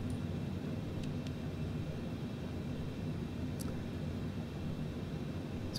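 Steady, even drone of a Cessna light airplane's engine in Microsoft Flight Simulator 2020 on an instrument approach, a continuous broadband hum with a few faint clicks, no talking.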